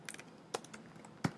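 A few scattered keystrokes on a computer keyboard tap out softly and irregularly, with one firmer clack near the end, in an otherwise quiet room.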